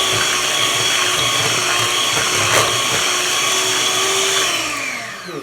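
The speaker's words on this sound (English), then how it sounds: "So I'm going to blend again." Electric blender whirring steadily as it purées cooked sweet potatoes for pie filling, a loud continuous motor drone that slows and winds down at the end.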